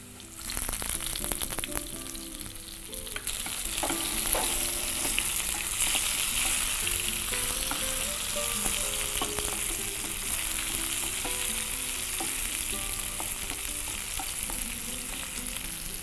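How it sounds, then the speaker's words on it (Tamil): Onions and tomatoes fry and sizzle in a pan while being stirred, a steady, loud hiss with scraping stir sounds running throughout, no talking. "வெங்காயம் வதங்கினோடனே தக்காளி சேர்த்துக்கோங்க."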